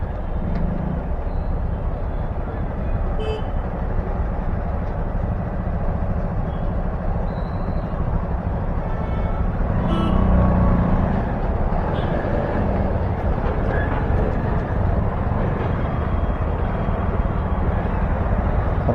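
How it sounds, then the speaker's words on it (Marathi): Heavy road traffic in Powai, Mumbai, heard from a motorbike: a dense, loud continuous roar of engines and wind, with a few faint horns rising over the steady rumble. "ट्रॅफिक खूप आहे."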